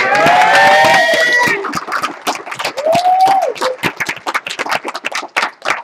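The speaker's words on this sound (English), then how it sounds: "a bigger round of applause" Loud audience cheering and whoops open the burst, then settle into scattered clapping and a few shouts that thin out toward the end, with the crowd close by.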